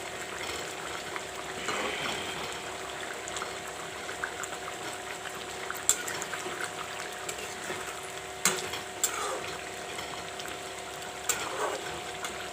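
Red pumpkin with gravy cooks in a pan, giving a quiet, steady sizzle and bubbling throughout with occasional small ticks and stirs.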